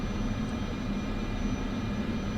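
Turboprop aircraft engine at low idle while taxiing in Microsoft Flight Simulator 2024: a steady, even drone with a low hum and a faint high whine, unchanging and close throughout.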